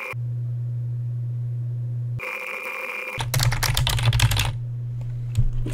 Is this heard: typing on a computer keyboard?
yes